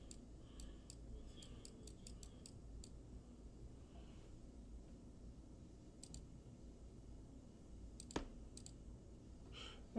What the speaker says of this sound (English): you can hear the click click